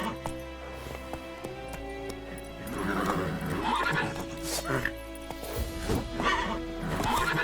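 Roach, a horse in The Witcher 3, gallops with steady clip-clop hoofbeats and gives loud whinnying neighs over a dense, busy game soundscape.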